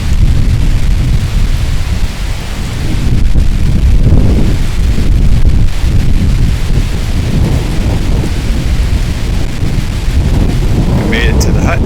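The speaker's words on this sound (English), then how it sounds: "That's when the winds picked up." Strong alpine wind on an exposed mountain track near the Luxmore Hut, New Zealand: loud, continuous roaring gusts buffeting the microphone with deep low rumble throughout, and no clear talk.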